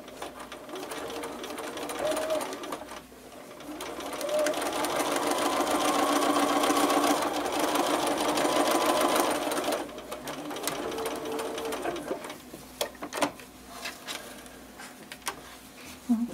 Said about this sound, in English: I'm going to just sew it without the line.